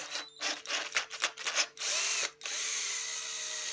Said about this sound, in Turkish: bu matkabı gerçekten bu videoda zorlayabildiğim kadar zorlamaya çalışıyorum